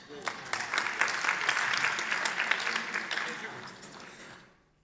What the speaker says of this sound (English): Give Teddy and the two colleagues a big hand of applause.